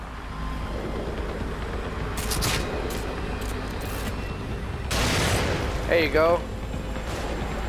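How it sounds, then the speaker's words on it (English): Enemies firing guns in The Evil Within video game, a faint crackle of shots and a louder burst of gunfire over tense background noise, with a voice speaking briefly. "Find cover. They're shooting."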